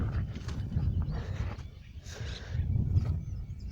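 Horse hooves shuffling and stepping on the ground as a horse is positioned for side-walking groundwork training, several soft irregular thuds close by with low rumbling background.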